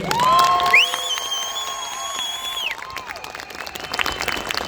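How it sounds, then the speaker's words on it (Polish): Crowd cheering and clapping at a 2023 Wroclaw motorcycle fair stunt show, a busy spread-out roar overlaid by loud sustained tones that rise, hold and fall away. "dziękuję jeszcze raz na 3-4 wielkie brawa dla tych chłopaków"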